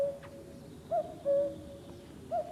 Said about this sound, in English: just heard the first cuckoo